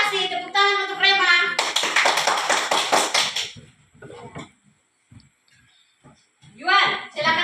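Classroom clapping for a pupil, a short burst of small hands applauding after someone speaks, with a teacher's voice and children talking before and after.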